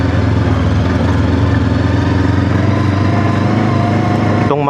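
A trail motorcycle engine runs loud and close on the Mount Ugo trail, a steady throbbing idle-like drone with a sudden change at the very end.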